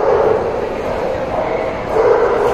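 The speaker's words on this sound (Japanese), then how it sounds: "コーカサスシープドッグですよね" A large Caucasian Shepherd Dog barks at a dog show in a crowded hall in Budapest, with deep repeated barks over a loud, steady crowd din.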